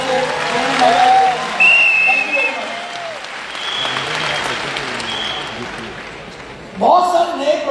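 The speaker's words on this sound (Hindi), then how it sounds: "एक बार दोस्तों सभी ने जो तालियां हो जाए दोबारा से।" A crowd at a large stadium seminar applauds continuously, with the clapping mixed under a presenter talking over a PA system.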